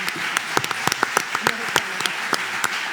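An audience claps for a speaker at a city-planning event in Aix-en-Provence, a thin spread of separate sharp claps over a presenter's voice.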